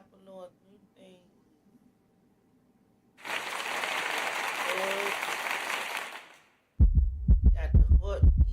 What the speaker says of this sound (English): Got the heartbeat.